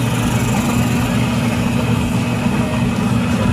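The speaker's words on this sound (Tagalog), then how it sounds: "Malakas ang motor guys." A new waterproof wash motor in a Fujidenso washing machine runs steadily, a loud, constant low hum and drone with no breaks, close by and alone.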